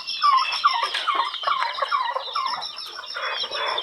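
Poultry in a backyard coop make dense, overlapping clucks and calls, a continuous busy chorus of birds heard close by with no talk.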